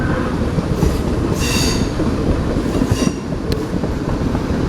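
A DART commuter train rolls northbound through Dun Laoghaire station, a loud steady rumble of wheels on track with faint squeals and clatter throughout the passage.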